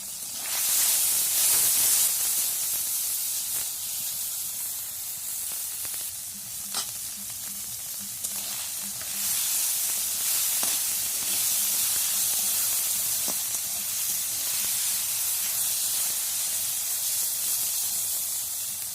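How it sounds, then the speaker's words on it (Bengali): Tiny shing fish coated in salt and turmeric fry in hot oil, a loud, sustained close-up sizzle and hiss with occasional stirring clicks and no talk, for a village home-cooking scene. "মাছগুলো একটু কড়া করে ভেজে নিলাম"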